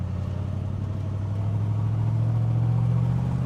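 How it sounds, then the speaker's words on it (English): A 1966 Chevrolet Corvette 427 V8 rumbles from inside the car, its low engine tone swelling and rising in pitch as the revs climb, heard steady and close. "We'll turn on here, we'll get a little RPMs going."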